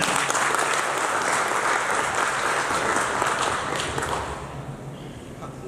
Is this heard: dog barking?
no